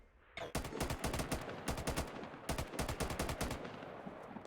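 Automatic turret gunfire in the shooter Warface during a hardest-difficulty PvE mission, loud rapid bursts of shots in quick rhythmic clusters with brief pauses between them, close and dominant.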